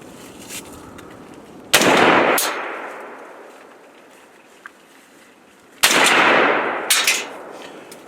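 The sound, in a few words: gunshots fired from simulated helicopter shooting platform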